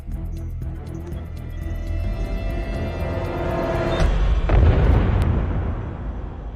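A movie-style bomb explosion in a CCTV room, a deep boom that swells and rumbles for several seconds over a tense musical drone, loud and close.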